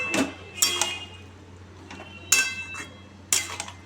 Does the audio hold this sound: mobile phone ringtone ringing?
no